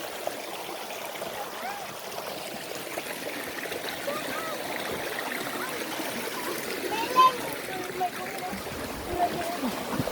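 River water flowing and splashing where people are bathing in hot weather, a constant watery wash at moderate distance with a few brief louder splashes and a faint voice or two in the background.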